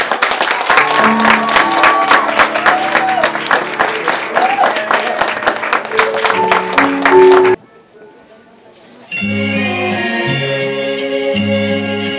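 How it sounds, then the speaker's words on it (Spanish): An audience applauds a young woman and her father, loud, dense clapping with talk and background music running through it, breaking off abruptly before music resumes alone. "le vamos a dar un gran aplauso"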